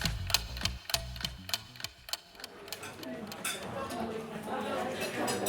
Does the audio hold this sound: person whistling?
no